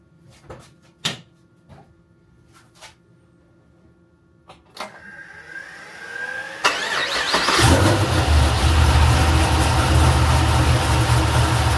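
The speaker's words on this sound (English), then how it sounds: "let's go ahead and start the car up" A few relay clicks and a short whine, then a car engine cranks and catches with a VITOMAN X7 compact jump pack, settling into a loud, steady idle close by.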